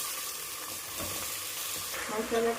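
Chickpeas and potatoes frying in a pan at home, a soft continuous sizzle with stirring scrapes and a brief louder clatter near the end.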